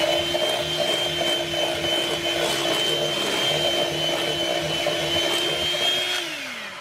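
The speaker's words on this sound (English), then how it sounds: "add in half a cup of sugar, any sugar you like, and we'll whisk that in" A steady, continuous whirring hum of an electric mixer whisking sugar into cake batter for a lemon custard cake, close and constant throughout before tapering off at the end, with no talking.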